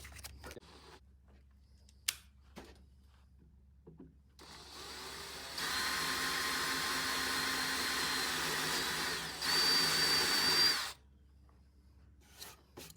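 Drill boring into wood with a Forstner bit during a chest-of-drawers makeover, a couple of short bursts and then a sustained whirring grind lasting several seconds that rises in pitch before stopping, no talking.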